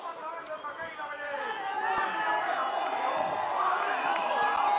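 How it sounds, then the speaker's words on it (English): Crowd cheering and chattering along the sides of the finish corral for a freeride skier at a Freeride World Tour stop in Baqueira Beret, a steady babble of voices that builds slightly louder toward the end. "They're cheering at him from the sides there while he anxiously awaits the score"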